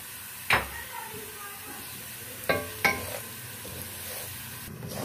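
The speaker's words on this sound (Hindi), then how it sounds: "अब इसमें हम सूजी डालेंगे और इसको हम मिला लेंगे" Semolina stirred into hot cooking oil for suji tukri halwa, a soft steady sizzle broken by a few sharp scraping spoon strokes against the pan.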